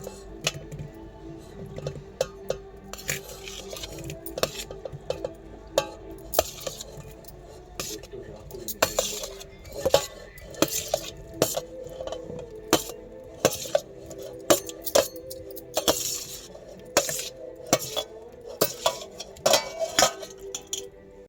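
Tomatoes cooking in a pan with curry leaves, tempering spices and dried red chillies, with repeated clinks and scrapes of a spoon stirring against the metal over a faint sizzle, fairly quiet and close.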